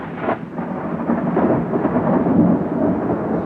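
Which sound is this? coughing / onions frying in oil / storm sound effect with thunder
storm sound effect with thunder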